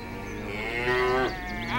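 A cow lets out a long, loud moo over a steady background bed, with a second call starting near the end.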